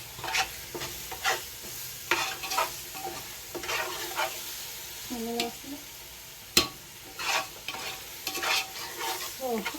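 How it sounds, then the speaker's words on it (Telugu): Onions fry in a pan while a spoon stirs and scrapes them in scattered bursts over a low sizzle, with one sharp knock partway through, close but fairly quiet. "ఆనియన్స్ అయితే ఫ్రై అయిపోయినాయి"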